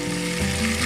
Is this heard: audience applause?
no